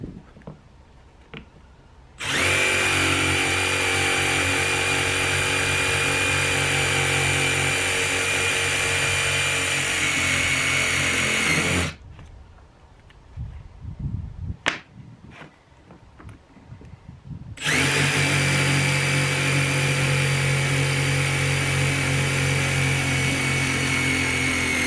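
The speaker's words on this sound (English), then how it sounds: "we're gonna have to drill holes out of this piece and this piece over here" A power drill bores holes in a plastic cover piece for a Jeep JLU tailgate table, running in two long, loud, steady bursts separated by a quiet gap with a few handling clicks.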